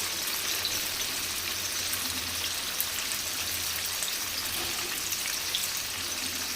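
Cauliflower sautés in a pan with a quiet, even sizzle, a soft patter of fine crackles held steady from start to finish.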